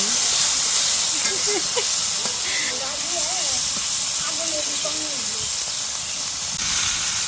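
Sweet pumpkin and prawns fry together in a hot pan, a loud continuous steamy hiss and sizzle that holds throughout with a voice talking faintly beneath it.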